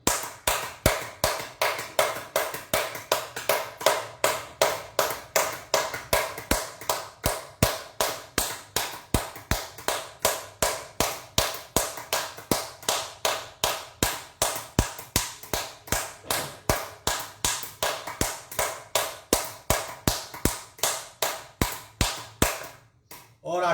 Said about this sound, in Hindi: दोनों हाथ को ताली बजाएंगे लेकिन जोर से